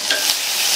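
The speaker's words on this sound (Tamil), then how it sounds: "ஒரு வதக்கு வதக்கிட்டு" Medium-sized chopped tomatoes sautéing in a pan for a Tamil lunch dish give a close, continuous sizzle with stirring scrapes throughout and no voices.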